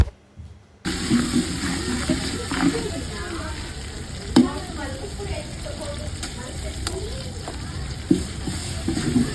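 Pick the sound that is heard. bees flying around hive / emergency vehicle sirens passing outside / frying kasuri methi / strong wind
frying kasuri methi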